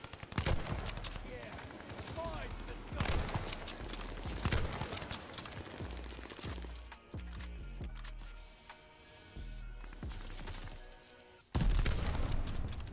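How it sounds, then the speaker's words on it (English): Dense gunfire in the shooter game Modern Warfare 2022, with rapid automatic bursts, sharp cracks and booms. The shots roll on almost nonstop, loud and close, with a brief lull before a heavy burst near the end. "Everyone's shooting through all the material."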